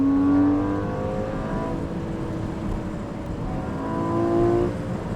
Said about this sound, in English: I'll drop the window down a little bit for the exhaust note.